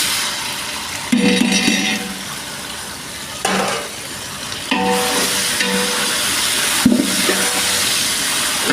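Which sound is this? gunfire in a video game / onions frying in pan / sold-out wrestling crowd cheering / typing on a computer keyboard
onions frying in pan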